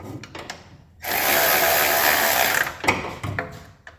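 A ratchet tightens bolts on a 1978 AMC Gremlin, starting with a few clicks, then a loud sustained whirring burst lasting about a second and a half, then more close clicking and clunks.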